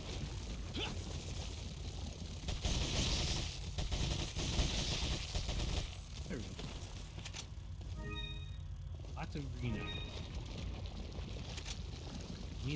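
Sustained machine-gun fire from a TMP in Resident Evil 4 rattles on through the first half, then gives way to quieter game sounds and a few brief tonal chimes.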